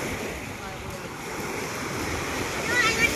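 Steady surf washes on a seashore at a fishing spot, making a broad, continuous wash of noise. Wind rumbles through it and the surf swells slightly toward the end.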